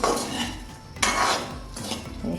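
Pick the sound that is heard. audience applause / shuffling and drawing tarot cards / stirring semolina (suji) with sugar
stirring semolina (suji) with sugar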